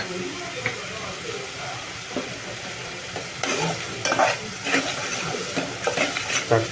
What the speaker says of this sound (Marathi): हळद थोडी भाजून घ्यायची